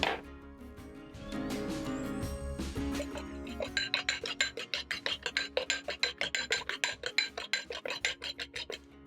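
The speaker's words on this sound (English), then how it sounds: "Whisk my eggs for around 30 seconds" Eggs being whisked by hand in a small bowl, a steady fast run of rhythmic clinking strokes that starts after a few seconds of softer rubbing and continues close and fairly loud with no talking.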